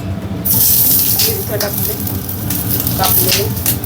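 Vegetables frying in oil on a griddle for a wedding-style Agri dish with peas, brinjal and potato, a loud continuous sizzle close up that swells after the first half second, with brief scraping stir sounds and voices talking over it.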